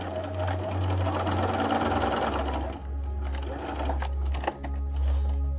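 A sewing machine stitches hexagon patchwork pieces in a steady, loud whirring run with a low hum, pausing and restarting near the end at the corners.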